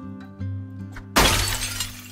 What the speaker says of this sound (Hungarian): Max az ablakot betörjük.